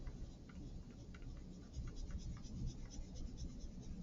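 Colored pencil scratching across paper while layering color on a mixing worksheet, a soft close-up series of rapid rhythmic strokes over a low background hum.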